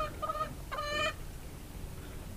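A hen in a hen house gives two short bursts of clucking close by, then a quiet stretch of low background noise.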